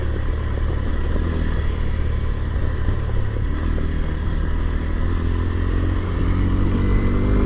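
A Kawasaki KLX 230 Sherpa S motorcycle rides over ruts, its engine droning loud and steady up close with a low rumble and light clatter, no voices.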